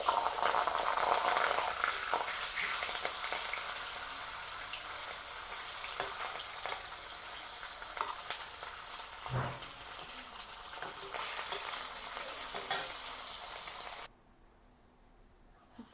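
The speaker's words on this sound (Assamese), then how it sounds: "তেলটো গৰম হ'ল, এতিয়া মাছখিনি মই ফ্ৰাই কৰি দিম।" Fish fries in hot oil in a kadai with a loud, continuous crackling sizzle and scattered sharp pops and spatters, close up, before the sound drops off abruptly near the end.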